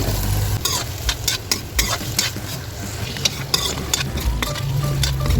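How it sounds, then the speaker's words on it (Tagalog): Carrots and potatoes fry in hot oil in a pan, with a continuous sizzle broken by repeated scraping stirs of a utensil, close and clear. "Fry muna natin itong ating carrots. At isunod na rin natin itong ating patatas."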